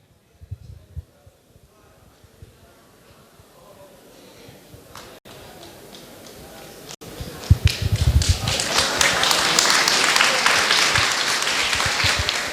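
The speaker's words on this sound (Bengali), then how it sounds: "তোমরা সবাই হাততালি দিয়ে যারা পুরস্কার পাচ্ছে তাদেরকে উৎসাহিত করো" Audience applause at an annual company awards programme for Bisk Farm, swelling from scattered claps into sustained, loud clapping from a large crowd as best-operator prizes and certificates are handed out.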